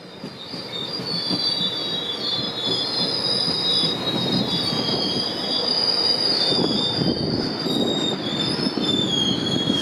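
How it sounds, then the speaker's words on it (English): A rush-hour commuter train rolls by close up along a Toronto waterfront trail, a continuous rumbling roar topped by high, sustained wheel squeals and faint rhythmic clacking. "I think trains are arriving every 15 minutes because it's rush hour."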